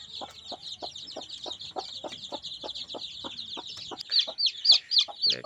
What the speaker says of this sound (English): now I'm going to show you my chicks